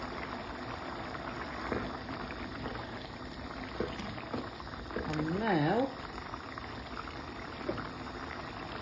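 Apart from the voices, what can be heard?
pot of curry bubbling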